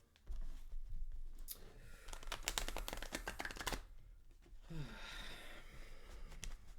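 A deck of tarot cards is riffled and shuffled up close, a rapid flurry of crisp flicks followed by softer sliding and handling.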